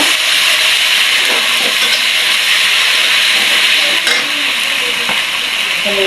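A paste of ground ginger, garlic and cumin fries in a hot pan, giving a loud, continuous sizzle and hiss with a few faint scraping stirs throughout and no voices.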